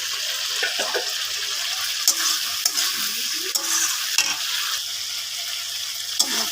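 Potatoes being sautéed in a pan give a continuous sizzling hiss with scattered scraping and clinking of a stirring utensil, moderately loud, with no voices.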